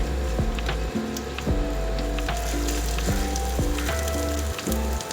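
Homemade chhena cooking with masala in a pan, a dense close sizzle under repeated rhythmic scraping and stirring knocks of a spatula, steady and fairly loud without speech.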